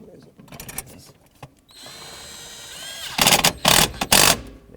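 Bolts being tightened on the electric power steering motor of a 2006-2011 Chevrolet HHR, with a loud burst of close ratcheting or power-tool whirring near the end after quieter handling and tool sounds.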